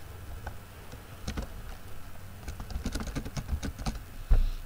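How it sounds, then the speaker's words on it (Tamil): Typing on a computer keyboard while entering an email address: a brisk, uneven run of close key clicks at moderate level, ending in one sharper, louder tap, with no voices. "அதை அப்படியே ஃபுல்லாக டைப் பண்ணுங்கள்"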